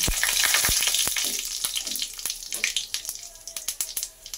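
Two dried red chillies, two bay leaves and half a spoon of whole cumin are tempered in mustard oil in a kadai for a vegetarian ridge gourd ghonto. A loud burst of sizzling and crackling settles into sharp, intermittent pops.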